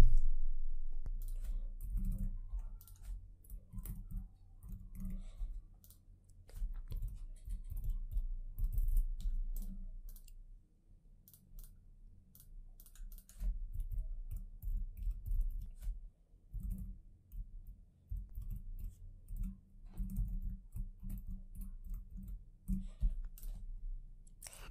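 Keystrokes clatter on a computer keyboard as values are entered into an Excel form, with quiet, irregular clicks in bursts and short pauses between them. No one speaks.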